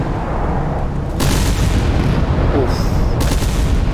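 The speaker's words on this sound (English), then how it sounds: "And look, there's more missiles coming in." Missiles strike ships in a Cold War naval video game, heavy booming blasts rolling into a loud, continuous rumble of explosions, with one brief voice exclamation.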